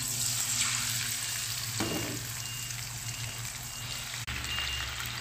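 A kilogram of chicken frying in ghee and oil in a karahi, a steady, close sizzle throughout with a brief stir near the middle and a short break near the end.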